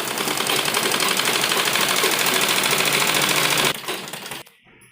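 A sewing machine runs fast and steady, stitching the seam of an Afghani salwar, a loud continuous rattling whir that stops abruptly near the end, leaving near silence.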